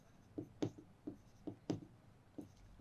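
A pen writes on a paper form in short, separate strokes, about seven scratchy marks spaced across a quiet, close, isolated moment.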